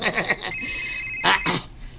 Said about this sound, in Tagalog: Oh, ang akong cellphone ron.